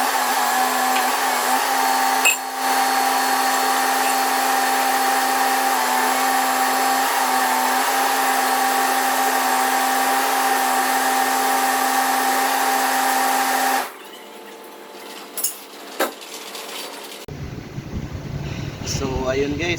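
A small welding machine hums steadily and loudly at a work setup, a constant electrical drone that cuts off near the end, leaving quieter clatter and handling noise.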